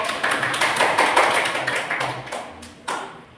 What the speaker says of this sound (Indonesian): Beri tepuk tangan untuk kedua kelompok.